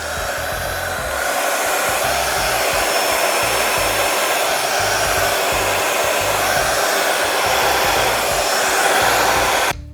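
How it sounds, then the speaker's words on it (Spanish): A hair dryer blowing steadily, close and loud, with a constant whooshing roar that holds for the whole stretch before cutting off at the end. "solo en las puntas voy a aplicar un poquito de calor para conseguir que se me quede un poquito hacia arriba"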